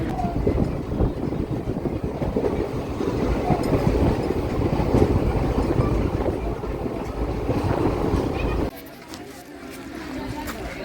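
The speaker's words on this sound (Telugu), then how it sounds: "ఇదే ట్రైన్ మాది, ఇదే ట్రైన్కి వెళ్తున్నాము మేము" Steady rumbling of a train in motion, loud and continuous, with people talking over it before the noise drops away near the end.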